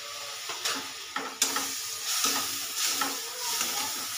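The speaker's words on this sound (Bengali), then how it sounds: "মশলাটাকে ভালো করে এবারে কষিয়ে নেব।" Spice paste of coriander powder, turmeric and yogurt frying and being stirred in a pan for cauliflower rezala, a steady close sizzle with scraping stir strokes throughout.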